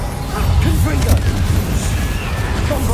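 A Confringo fire spell exploding in the video game Hogwarts Legacy, a loud close booming blast with crackling bursts and rumble that stays dense throughout.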